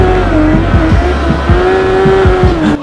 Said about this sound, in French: Attention, vous êtes prêts, ça burn.